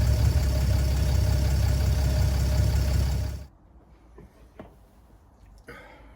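Chrysler car engine idling nearby, a loud steady low rumble for about three seconds that then cuts off abruptly, leaving faint background sounds and a few small knocks.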